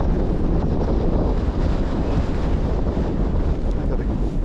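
Chilly, breezy wind across Irish countryside farmland, a heavy, continuous low roar and buffeting against the microphone, loud and close throughout.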